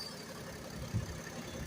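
A BMW 335d diesel engine idles steadily at close range, a low, even rumble with a slight bump partway through and no voices over it.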